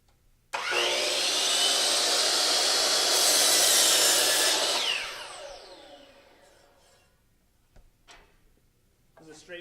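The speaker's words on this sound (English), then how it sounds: "Let the saw run for a couple seconds and get up to speed before you start cutting, and slide it down all the way through" DeWalt compound miter saw spinning up loudly, growing harsher as the blade drops through a straight 90-degree cut in wood, then whining down over a couple of seconds into near quiet with faint handling clicks.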